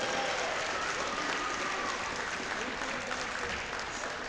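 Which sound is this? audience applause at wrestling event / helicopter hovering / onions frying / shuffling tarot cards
audience applause at wrestling event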